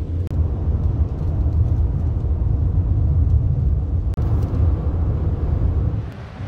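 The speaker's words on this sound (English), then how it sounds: "The traffic is so bad as far as your eyes can see up there on the hill those are cars" Heavy traffic on a hillside road in North Carolina fills the air with a loud, continuous low rumble of many engines, with a few faint higher swishes of passing vehicles.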